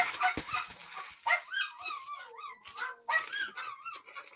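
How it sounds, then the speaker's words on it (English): A small dog yips and lets out high, squealing whimpers in rapid bursts, close by, with short pauses between the excited cries. "That loud squealy one, if you can hear it, which I don't think you can miss it, is Bindi."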